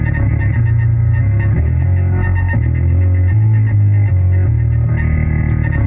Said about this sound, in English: hear that distortion one time.